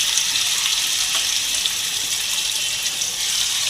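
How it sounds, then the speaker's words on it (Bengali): Battered katla fish pieces frying in hot oil in a pan, giving a steady, close, even hiss and crackle that runs without pause. "এবার মাছগুলো আমি ভেজে নেব"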